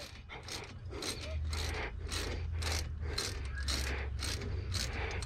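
A small hand thumb ratchet clicks in rapid, steady bursts while working on an engine outdoors, about ten evenly spaced strokes close up with a low mechanical hum underneath and no talking.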